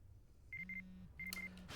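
A mobile phone in the Yakuza 5 video game gives two short electronic ringing bursts, each a steady tone with a quick chirp on top, quiet and alone with no talk.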